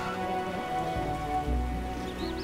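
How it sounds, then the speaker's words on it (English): Heavy rain in The Witcher video game pours steadily, a dense hiss of drops drumming on surfaces with a low rumble underneath. "What a downpour."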